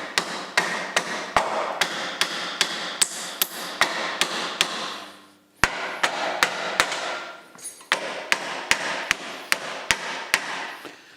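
A hammer strikes metal parts on an old rusty tractor while removing fenders and front axle, sharp regular blows roughly every half second in bursts, with brief pauses between runs.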